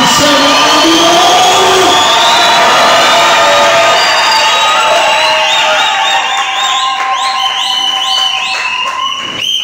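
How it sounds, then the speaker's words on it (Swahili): A wedding crowd at a marriage ceremony erupts in sustained loud cheering, shouting and high ululating trills, a dense continuous roar with no pause throughout. "watu wote tupige kelele na makofi na kelele, tuseme amina"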